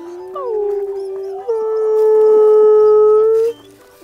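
Several wolves howl together in long, overlapping, rising and falling wails, one voice holding a strong steady note while others slide around it, loud and close.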